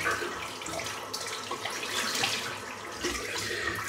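Tap water runs steadily at a sink as soap is rinsed from the knot of a shaving brush, a continuous close hiss and splash with no talking.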